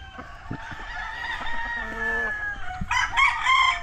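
Roosters at a gamefowl farm in Cebu City crow loudly and repeatedly, the long calls overlapping, then a higher, brighter burst of crowing near the end, with a few clucks in the background.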